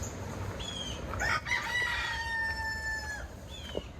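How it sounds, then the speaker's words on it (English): A rooster crows loudly nearby in a long drawn-out call, with a second shorter crow at the end over quiet outdoor background noise. "Damn roosters."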